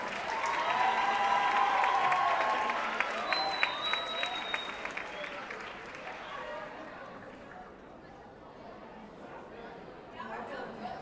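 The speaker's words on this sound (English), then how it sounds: "Give yourselves a round of applause" An audience at a school senior merit assembly applauds the class of 2017 and award recipients, a dense crowd clapping that swells early and then slowly thins, with chatter and a few cheers mixed in.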